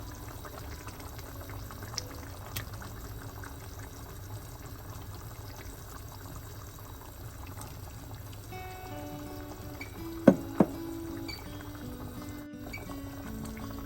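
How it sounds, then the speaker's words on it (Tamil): Thick tinned-fish curry bubbling in a pot as washed tinned fish is added, a low, steady simmering hiss with a few faint clinks and small splashes, quiet and close. "இந்த நேரத்தில் நான் இந்த கழுவி வச்ச டின் மீனை இதுக்கு சேர்க்க போகிறேன்."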